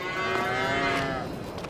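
A cow moos once in a Farming Simulator 22 barnyard, a single drawn-out, fairly close low call lasting under two seconds, alone without talk.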